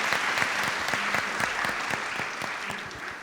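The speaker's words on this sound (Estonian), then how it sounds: "Teeme talle aplausi." Audience at a forum theatre performance during a mental health fair claps steadily, with individual sharp hand claps standing out above a moderately quiet, continuous round of applause.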